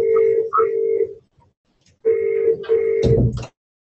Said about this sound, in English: Somebody's phone ringing or something.